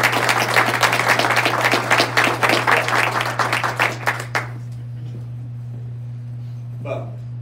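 An indoor meeting audience applauds as a speaker is welcomed to the podium, steady clapping close and loud for about four seconds, then fading into quiet room tone with a faint hum.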